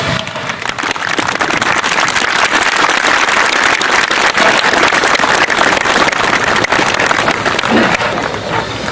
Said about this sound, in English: So Richard himself deserves a big round of applause.